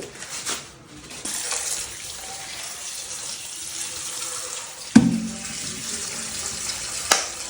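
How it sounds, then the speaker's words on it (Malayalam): Running water from a tap splashes steadily while something dusty and caked with soil is washed clean in hot weather, with a sharp clunk near the middle and a softer knock near the end. "ഇനി നന്നായിട്ട് കഴുകിയെടുക്കണം നല്ല ചൂടാണ് പൊടിയൊക്കെ അടിച്ച് മണ്ണൊക്കെ ആയിട്ടിരിക്കുക"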